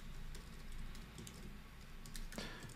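Fast keystrokes on a computer keyboard entering a terminal command, faint light clicks in quick irregular bursts over a low hum, with no voice.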